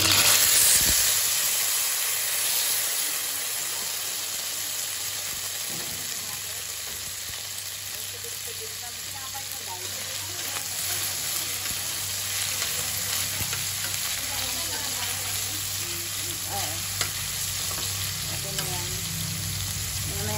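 Pork menudo with carrots sautéing in a pan produces a continuous close sizzle and hiss, loudest at the start, with occasional faint stirring scrapes.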